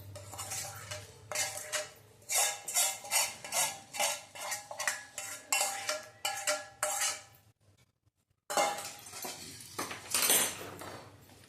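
A spoon scrapes and clatters rhythmically against a metal pot while stirring a green turmeric vegetable dish with spice paste, repeated close clinks that pause briefly before resuming.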